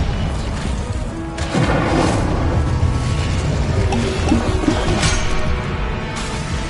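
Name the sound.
Incendio fire spell cast in wizarding video game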